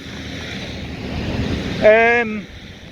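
Steady rushing water noise of the flooded River Don in Sheffield, with wind buffeting the microphone, and a voice speaks briefly over it.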